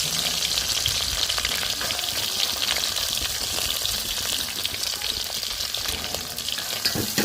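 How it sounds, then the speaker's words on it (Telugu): Dried fish fries in hot oil, a dense, loud, constant sizzle and crackle running close and unbroken from start to end, with no voices. "ఇవనేది ఆయిల్లో బాగా ఫ్రై చేసేసుకొని"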